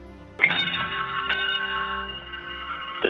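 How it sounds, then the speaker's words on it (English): Ship's bell rung aboard the International Space Station as Space Shuttle Discovery undocks on its final mission, STS-133, a clear metallic strike that rings and slowly decays, with a second strike at the end. "the shuttle undocked with the traditional ringing of the ship's bell"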